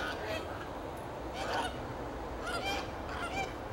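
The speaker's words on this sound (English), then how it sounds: "The Canada geese are saying hello to us." Canada geese honk in Bath, England, with several bursts of loud, nasal calls in an irregular rhythm over low background noise.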